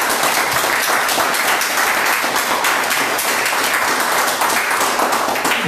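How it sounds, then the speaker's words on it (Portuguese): A church congregation applauds for Jesus during a Portuguese-language sermon, a steady, loud wash of many hands clapping that holds evenly for several seconds. "E uma salva de palmas para Jesus."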